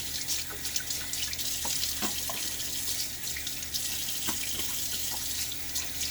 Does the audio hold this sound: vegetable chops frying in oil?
no